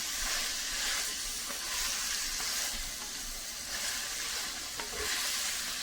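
Onions fry in a pan for a fried okra dish, giving off a steady, close, even hiss of sizzling oil that continues throughout with no voices.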